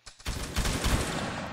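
Video game gunfire volley as a line of muskets fires at once, a dense rolling crackle of many overlapping shots that sustains loudly after a couple of brief leading pops.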